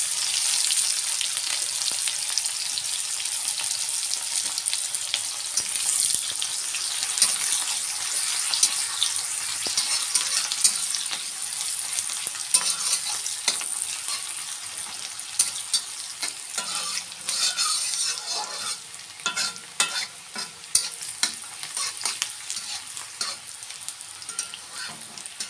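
Onions fry in oil that already holds dried chili and bay leaf and was used for frying fish, making a loud continuous sizzle with stirring scrapes and a few sharper clatters toward the end.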